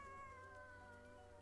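A faint, drawn-out cat meow, a single wavering cry that slowly falls in pitch, heard quietly and close with no talk over it.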